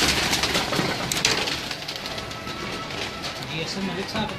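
Pet pigeons cooing close by at a home loft, soft repeated coos under a busy background of other birds and voices talking.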